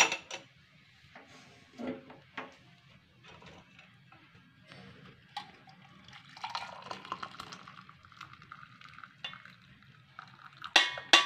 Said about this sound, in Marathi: आता मी हे गाळून घेते।